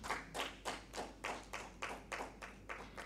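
A conference session audience claps for a speaker, with distinct, evenly spaced claps that sound fairly faint and slightly distant, with no talking.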